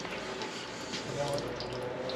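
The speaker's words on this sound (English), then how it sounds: "Coolant never stops leaking." Engine coolant dripping and leaking from a 1275 engine being torn down during an MG Midget restoration, a faint, continuous watery trickle with small drips over a steady background hiss.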